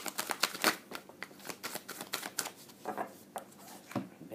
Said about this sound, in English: Bending my cards today.